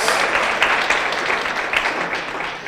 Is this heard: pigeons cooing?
no